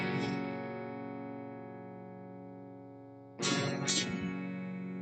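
A sustained electric guitar chord rings out with a clean, bright tone, then a second strum enters near the end, ringing on steadily.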